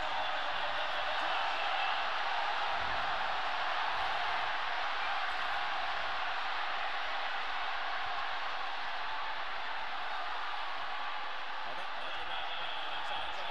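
A stadium crowd at the League of Legends LPL Summer 2018 grand final between Invictus Gaming and Royal Never Give Up fills the air with a broad, sustained roar of cheering and chanting, steady and distant-sounding throughout.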